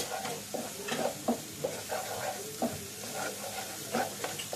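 Ground spice masala with coriander powder and Kashmiri chili powder frying over a raised flame for chicken bharta: an even sizzle broken by regular scraping stir strokes, near and moderately loud, with no talking.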